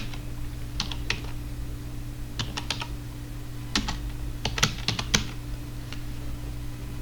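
Irregular bursts of typing on a computer keyboard enter text into a PowerPoint text box: clusters of close, crisp key clicks separated by short pauses over a steady electrical hum.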